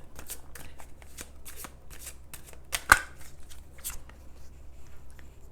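A deck of tarot cards is shuffled up close in a quiet room, giving a run of quick, papery riffles and flicks with one sharper snap midway. No voice is heard.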